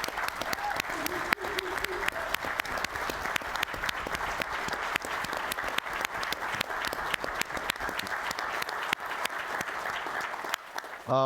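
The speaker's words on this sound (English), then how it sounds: "let's show him one final round of applause before he transitions out." An audience at a 2023 annual meeting closing ceremony gives a dense, sustained round of clapping that lasts about eleven seconds.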